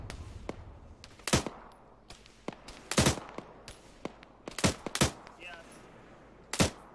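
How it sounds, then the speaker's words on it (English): Scattered gunfire in a combat video game, coming in from a town: sharp broadband shots at irregular intervals, a few heavy bursts standing out among fainter pops, with no talk. "Taking a bunch of fire from the town 330, I think, as well."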